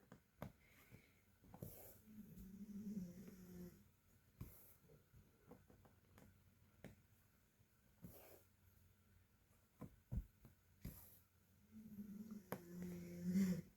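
Soft, rhythmic snoring from a sleeping dog, slow snuffling breaths repeating every few seconds, close and quiet, with occasional faint rustles.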